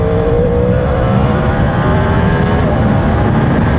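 A motorcycle engine pulls hard through its gears, a loud, close, continuous rising whine that climbs in pitch and holds steady under acceleration, with no voices heard.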